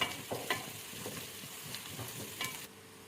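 Onions and curry leaves frying in a pan, a quiet sizzle broken by several scraping stirs and light knocks of a spatula, close by and with no talk.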